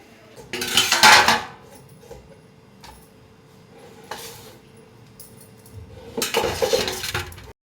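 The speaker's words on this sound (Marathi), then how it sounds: "आणि मी इथे काकडी कापत आहे." Knife work on a cucumber in a home kitchen, with clinking contacts against a board or dish in three separated bursts, the middle one brief and the outer ones fuller, fairly close and without talk.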